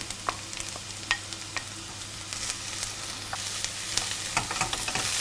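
Chili and garlic are added to onions frying in a pan for Iranian qaliyeh maahi, giving a steady close sizzle over a low hum, with scattered crackles and light stirring clicks throughout.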